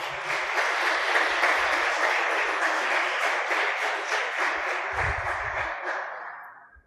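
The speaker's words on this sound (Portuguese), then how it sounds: "Aplaudir a Jesus na vida, Beth." A church congregation applauds during a sermon, a dense sustained round of clapping that carries steadily for several seconds before tapering off at the end, with no voices over it.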